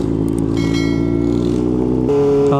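A Kawasaki ZX4RR motorcycle engine warming up, running close and loud with a steady high-pitched drone, then a sudden rise in pitch near the end as the revs climb.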